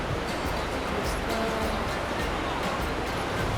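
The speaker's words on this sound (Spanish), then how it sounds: "Vamos a mostrar un poquito más la cascada." Waterfall in East Iceland heard as a steady, dense roar of rushing water, loud and continuous with no break throughout.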